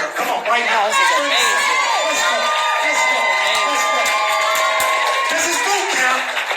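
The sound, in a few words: audience cheering at opportunity meeting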